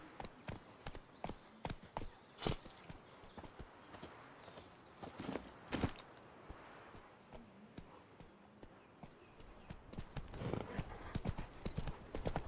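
Roach's hooves clip-clop on the ground in The Witcher 3: Wild Hunt, a steady series of light, fairly faint hoof strikes growing busier toward the end, with a brief soft voice.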